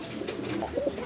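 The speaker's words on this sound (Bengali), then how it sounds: "এখানে আরেক জোড়া রেসার কবুতর দেখতেছি" Racer pigeons coo softly and close by, with a couple of brief low throaty calls over faint background noise and no voices.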